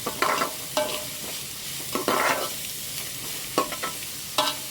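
Onions sauté in a pan for tomato rice, with a soft sizzle under several distinct bursts of spatula stirring and scraping, close and alone.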